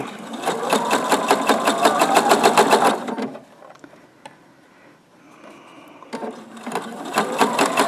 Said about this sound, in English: put my other strip along the piece that I want in the middle, and then sew that seam